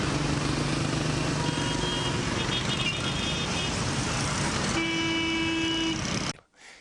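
Busy traffic at Tahrir Square in central Cairo, a dense roar of cars with car horns honking repeatedly, some long tones, loud and continuous until it cuts off near the end.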